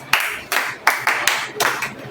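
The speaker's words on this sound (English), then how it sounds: "Clap for yourself for that, please." A class in an English-language lesson claps together for themselves in five sharp, unison bursts, evenly spaced about a third of a second apart, close and fairly loud.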